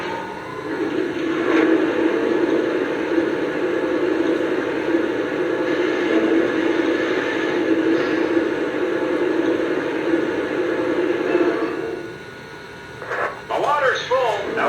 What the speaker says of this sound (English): And there's also a sound of water filling up the tender.